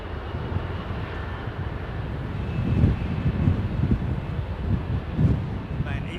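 A jet airliner rumbles at London Heathrow Airport on a cold, windy day. A low, distant engine roar swells and fades under gusty wind buffeting on the microphone.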